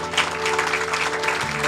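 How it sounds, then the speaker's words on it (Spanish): Church congregation clapping in praise to the Lord during a Spanish-language worship service, a steady, moderately loud patter over a sustained musical tone, with no clear speech. "Puede darle un aplauso al Señor."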